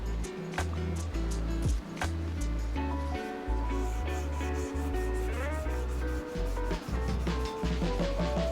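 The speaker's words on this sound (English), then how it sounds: "now we're going to hand sand this blade and get it up to 800 grit and ready for etching." A steel knife blade is hand sanded to 800 grit with steady, rhythmic back-and-forth rubbing strokes, close and continuous.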